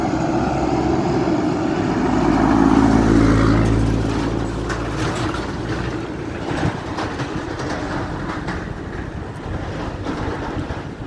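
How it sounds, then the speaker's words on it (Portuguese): A large truck passes on a riverside avenue in Janaúba, Minas Gerais, making a broad rumbling roar that swells to a peak and then fades into steady wind-buffeted road noise. "Olha o tamanho do caminhão que tá vindo aqui na minha frente."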